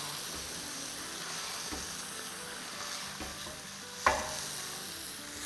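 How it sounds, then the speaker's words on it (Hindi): Sautéed vegetables being stirred into fried masala in a hot pan, a steady low sizzle with scraping spoon movements and one sharper clack, close, no voices. "अच्छे से मिक्स करेंगे।"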